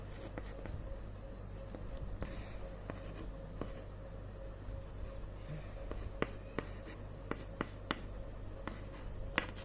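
A pen or chalk writes numbers during a class 9 maths lesson on number systems, producing continuous light scratching with small irregular taps over a steady low hum, with no talking.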